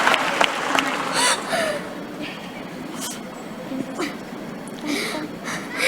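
Audience applause for Dinda at a Desak Anis event, scattered bursts of clapping that rise and fall unevenly, mixed with murmuring voices and some talk in the room.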